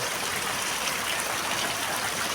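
Heavy rain pours in Patdi as a dense, unbroken hiss of falling water, steady and loud throughout with no voices.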